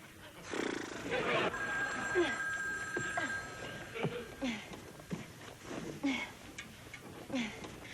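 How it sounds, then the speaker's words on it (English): A telephone rings indoors in a sitcom home, its bell sounding in short repeated bursts while people talk and move around it. "This is our first phone call."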